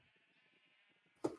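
A Minecraft sheep bleats once at the end, a short close bleat after a faint stretch of quiet background.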